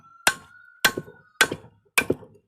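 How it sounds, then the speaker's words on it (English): Hammer striking metal to straighten it: four sharp ringing blows at an even pace, each followed by a quick rebound tap, close and alone, with a metallic ring. "I want to kind of hit this with a hammer."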